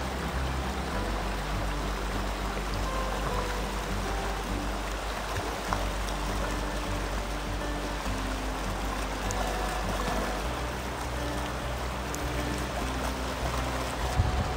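The White Cart river flows in a steady, unbroken rush of water. It sounds close and even for the whole stretch, with no voices.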